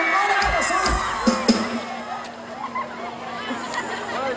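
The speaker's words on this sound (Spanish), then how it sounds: "Un aplauso para la novia" Wedding guests cheer and whoop for the bride in a lively mix of crowd noise, with people talking loudly over the celebration.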